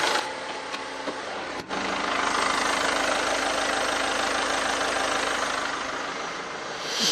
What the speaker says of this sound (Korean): 굉장히 짱짱한 엔진 소음 기대하실 수가 있는 차량입니다.